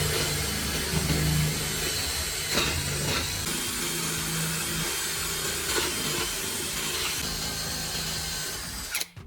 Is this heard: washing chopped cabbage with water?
no